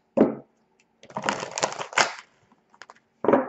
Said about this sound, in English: this is a really good way of making sure that all of your cards get shuffled.